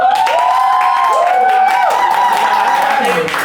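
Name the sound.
audience applause and cheering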